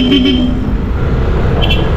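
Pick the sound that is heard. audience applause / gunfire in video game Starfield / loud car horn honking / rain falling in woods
loud car horn honking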